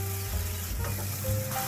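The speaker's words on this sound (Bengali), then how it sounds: "এরপরে ভালো করে পুরোপুরি মশলাগুলোকে ভেজে নেব" Spice paste frying in hot oil for a lentil dal, a steady close sizzle with soft stirring scrapes, continuous and fairly loud with no voices.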